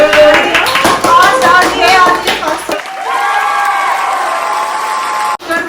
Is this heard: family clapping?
yes